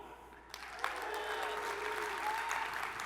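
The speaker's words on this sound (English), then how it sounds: "Make some noise if you're 35 or older." A crowd breaks into applause and cheering that swells quickly and holds steady, a bit distant.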